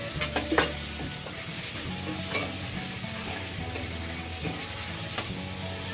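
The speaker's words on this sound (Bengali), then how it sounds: "রসুনটা একটু নেড়ে চেড়ে দিয়ে দেবো আমি আদাটা দিয়ে। এবার দিয়ে দিচ্ছি আমি আদা।" Ginger stirred into garlic frying in a pan for biryani, a steady close sizzle with a few scraping stir clatters at the start and occasional soft pops over the constant hiss.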